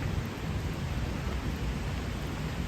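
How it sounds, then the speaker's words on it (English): Steady, dense rain pours down outdoors in a broad, even wash of noise, loud and unbroken throughout, with no voices. "And then back into the inevitable rain."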